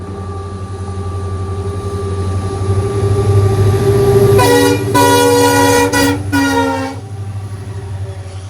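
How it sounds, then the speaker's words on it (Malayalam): A WDG4 diesel locomotive hauling a goods train rumbles steadily nearby, then sounds its horn in several loud blasts in the second half. "ഏതോ ഡീസൽ വെച്ചുള്ള ഫ്ലൈറ്റാണ്. എനിക്ക് WDG4 ശബ്ദം കേൾക്കാം."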